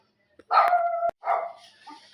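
A dog gives two sharp barks in quick succession, close and loud, followed by brief quiet.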